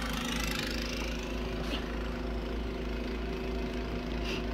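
A snow blower runs steadily in the cold outdoors, giving a continuous mid-distance engine drone with a low rumbling hum that holds even throughout.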